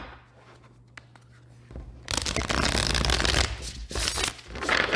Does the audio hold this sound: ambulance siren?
no